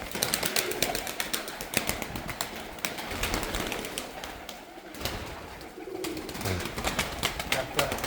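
Pigeons coo repeatedly nearby, soft throaty calls spread through the whole stretch, with a busy background of clicks, rustles and faint murmuring voices.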